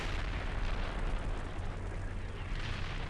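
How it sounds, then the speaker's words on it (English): Enemy artillery rumbles heavily and continuously in the tank simulator Steel Beasts Pro PE, a dense, steady roar of distant fire with no clearly separate blasts. "you get out of the enemy artillery fire"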